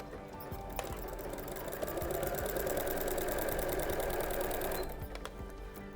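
A sewing machine topstitches through the layers of a Christmas Santa sock in one continuous burst of rapid, even needle clatter lasting several seconds. It is fairly close but quiet, with faint handling clicks before and after and no voices.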